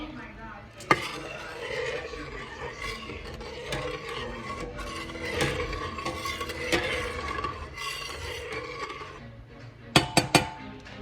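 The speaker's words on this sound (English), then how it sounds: "Now I'm gonna stir it." A spoon stirs yellow rice in a pot, giving repeated scraping and rubbing strokes with soft clinks, and a few sharp knocks of the spoon against the pot near the end.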